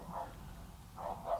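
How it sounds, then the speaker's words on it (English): A neighbor's dog barks next door, two or three muffled woofs at a moderate distance, separated by a short pause, with no talk over them. "I apologize for the barking dog."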